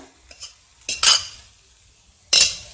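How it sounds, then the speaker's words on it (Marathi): Cooked rice being gently mixed into veg pulao in a pot over a low flame, a few soft scraping and clinking strokes with quiet pauses between, close and fairly clear. "हलक्या हाताने हे सगळं मिक्स करून घेऊया"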